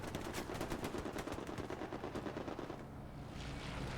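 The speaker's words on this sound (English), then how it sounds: "we've got a strafe run coming in" Strafing gunfire from an aircraft in the Hell Let Loose World War II shooter: a rapid, sustained machine-gun burst, loud and steady, then it cuts off into a low rumble.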